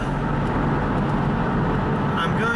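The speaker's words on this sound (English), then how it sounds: "as you can hear from all the tire noise and all the tunnels I'm going through" Steady broadband roar of car tires on a highway, with passing through tunnels and under bridges, constant and loud throughout with no talk.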